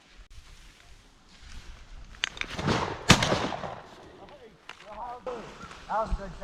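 A shotgun blast on a waterfowl hunt, one sharp loud crack near the middle, preceded and followed by excited voices and outdoor background noise.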